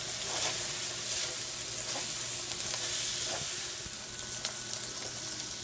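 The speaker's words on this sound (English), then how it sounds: "And continue to stir." A Japanese-style stir-fry with sesame oil and soy sauce sizzles steadily in a pan, close by, while a utensil stirs and scrapes through it in loose, repeated strokes.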